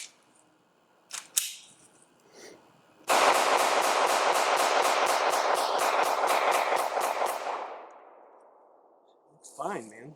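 A Glock 19 pistol fires a rapid string of about twenty close, sharp shots in steady rhythm, preceded by a few isolated clicks and clanks and followed by brief talk.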